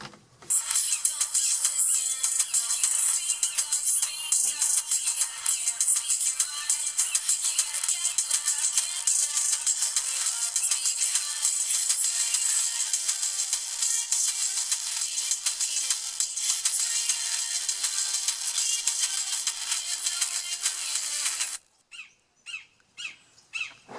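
A small cell phone speaker driven far past its limit emits a harsh, piercing high-pitched screech that holds steadily for about twenty seconds, then cuts out abruptly into a few sputtering crackles.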